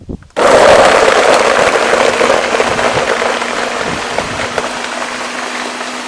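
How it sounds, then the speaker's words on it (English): A blender whirs loudly and steadily as it purées coconut for Jamaican hominy corn porridge, starting abruptly after a brief pause and holding a dense, continuous roar with a faint motor hum underneath. "And I'm going to blend."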